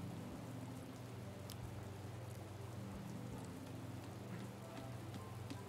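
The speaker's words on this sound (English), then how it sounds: "The rain never goes away, nor comes out another day." Steady rain falls in Zora's Domain in Zelda: Breath of the Wild, a constant dense hiss with scattered droplet ticks, faint and unbroken throughout.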